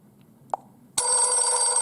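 A Classic Phone ringtone plays on a BlackBerry Priv smartphone, beginning with a brief click and then a loud, steady electronic telephone-bell ring that continues alone to the end.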